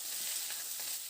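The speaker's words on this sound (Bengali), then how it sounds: "আবার আলু আর ডাঁটাটা দিয়ে বেশ কিছুটা সময় ধরে একটু ভেজে নেব।" Potatoes and vegetable stems frying in hot oil, a brief, even, hissing sizzle heard close up with no other sounds.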